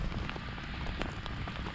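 Rain falling outdoors during Christmas tree planting, a soft constant patter of drops on the ground and surfaces with a few sharper taps, quiet and without voices.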